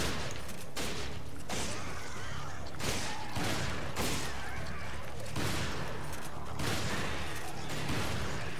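Steady, loud gunfire from the video game Resident Evil 5 pounds in repeated sharp bursts roughly every second, layered over a constant dense mix of game noise, close and continuous.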